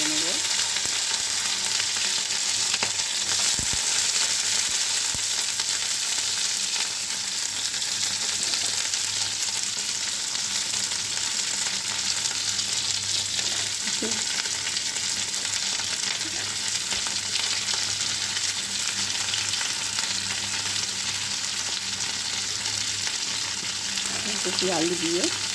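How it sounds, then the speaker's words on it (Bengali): Cauliflower pieces fry in oil in a pan after a five-spice tempering, giving a steady, moderately loud sizzle that runs throughout with a few faint stirring knocks and no speech. "ফুলকপি ভাজা করে নেবো"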